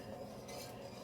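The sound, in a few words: whisking milk and flour sauce in a pan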